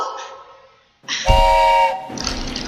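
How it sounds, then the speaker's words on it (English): A train whistle sounds in a theatre sound effect, a sustained tonal blast lasting under a second after a brief gap, followed by a rumbling, rolling train tail. "As the train rolled along through the countryside"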